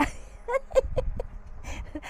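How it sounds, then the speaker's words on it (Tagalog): Several short, close clucks from a chicken in a loose, uneven rhythm over a low background rumble. "May manok daw."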